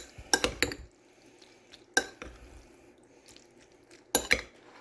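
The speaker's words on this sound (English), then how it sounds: "I'm just putting a scoop of salsa, and we'll stir this up" Spoon scraping and clinking inside a pot while PC brand mac and cheese is stirred together with a scoop of salsa, three distinct bursts of clatter separated by quiet moments, close and fairly soft.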